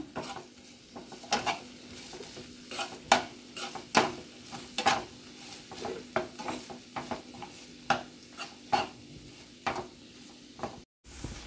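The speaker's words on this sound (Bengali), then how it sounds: "এখন আমি অ্যাড করে দিচ্ছি ক্যাপসিকাম।" Chopped onion, capsicum and garlic fry in a pan for a beef roll filling, with a soft sizzle under repeated sharp scrapes and clacks of a spatula stirring against the pan.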